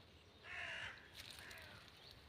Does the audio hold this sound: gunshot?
no